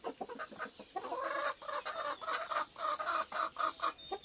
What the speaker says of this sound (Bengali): মুরগিগুলো করকর হয়েছে